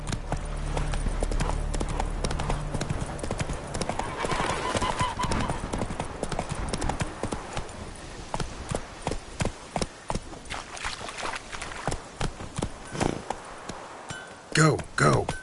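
Roach, a horse in The Witcher 3: Wild Hunt, clip-clopping steadily at a walk or trot, the hoof beats close and clear and running throughout, with game music and sounds layered under them.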